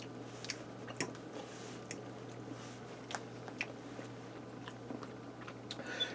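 A bite of tater tot sausage breakfast casserole chewed close to the mic: soft, quiet crunches and clicks repeat irregularly over a steady low background hum, with no talking.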